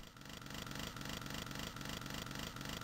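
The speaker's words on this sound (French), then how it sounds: "Je sens presque le kérosène de la tronçonneuse" Chainsaw weapon effect from Doom on the Atari Jaguar, a loud, steady buzzing drone with regular pulsing beats repeating throughout, no speech over it.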